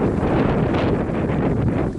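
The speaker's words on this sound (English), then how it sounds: "Quite windy up here, you can see the camera moving." Strong wind blows steadily across a hillside during a storm in Cyprus, roaring and buffeting close to the microphone with continuous gusty rumble throughout.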